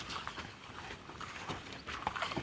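Irregular hoof clops of a mare walking on ground, moderately close, with faint outdoor background noise and no talking.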